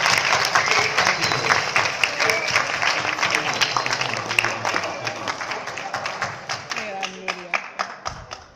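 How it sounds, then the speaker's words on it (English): Theatre audience applause after a play, sustained dense clapping from a crowd that thins toward the end into a few louder individual claps, with voices beneath. "Can I have a big round of applause for Nuria?"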